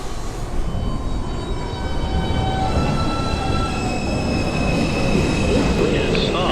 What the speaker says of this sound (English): Is downtown express 7 train approaching the station.